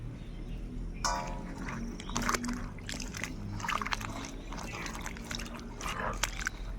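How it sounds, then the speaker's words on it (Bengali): Chopped vegetables are washed together in a vessel of water, with soft, continuous sloshing, splashing and dripping close by at fairly low volume over a faint background hum. "এবার সুন্দরভাবে ধুয়ে নেব একসঙ্গে সমস্ত সবজি ধুয়ে নেবো"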